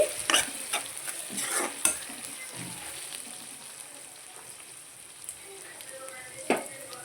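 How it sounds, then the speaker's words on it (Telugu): Cashew and drumstick curry fries in hot oil with a soft continuous sizzle, broken by the repeated scrape and clatter of a spoon stirring the pan up close. "మంచిగా బ్రౌనీస్ వచ్చేటట్లు వేయించుకోవాలి బాగా వేగనివ్వండి ఆయిల్లో మగ్గితేనే కర్రీ అనేది టేస్ట్గా ఉంటుంది మధ్య మధ్యలో తిప్పుతూ ఉండాలండి"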